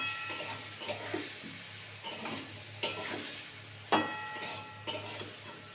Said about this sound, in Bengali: খুব ভালো করে কষাতে হবে,